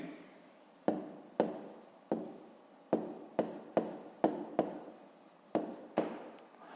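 A pen writes answers in a fifth-grade math exercise book. About a dozen crisp strokes and taps come close and distinct, in an irregular rhythm separated by brief pauses, with no voice.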